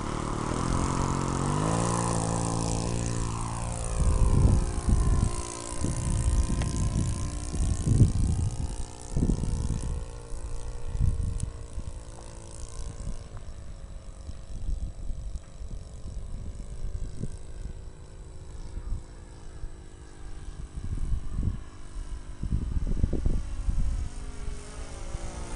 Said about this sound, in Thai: ครับเทคออฟครับ